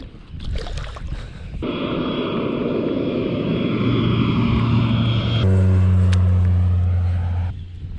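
A low-flying crop-dusting plane over the California Delta passes close overhead, its engine drone building from a faint start into a loud sustained roar, shifting pitch midway and cutting off abruptly near the end.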